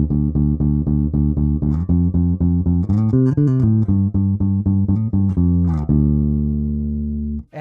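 A Schecter SLS Elite bass guitar in its modern tone setting plays a run of evenly plucked, rhythmic notes, loud and close, with a brief busier passage, ending on a long held low note.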